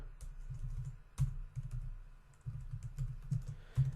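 Someone types on a computer keyboard, with close, uneven bursts of clicking keys and a few heavier key strikes. No one speaks.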